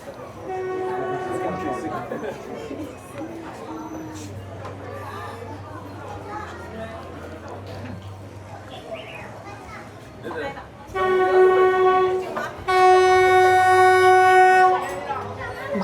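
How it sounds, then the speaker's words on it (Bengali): A train approaching along Hanoi Train Street sounds its horn in long blasts, loud and near toward the end, after a stretch of crowd chatter and children's voices over a low rumble. "ট্রেন আসছে, তোমরা হর্ন শুনতে পাচ্ছ।"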